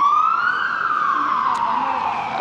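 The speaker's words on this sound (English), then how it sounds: "an ambulance is going by" Ambulance siren passing on a Brussels street, a loud, steady wailing tone that slowly drops in pitch as the vehicle goes by, with no talk over it.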